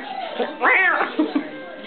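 A single cat meow, rising and falling with clear harmonics, heard close by over soft background voices and small handling noises.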